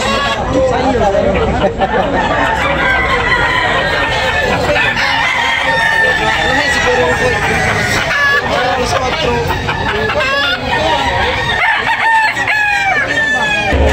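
Roosters crow repeatedly amid clucking chickens and a busy babble of people talking nearby at a chicken market, loud and crowded throughout.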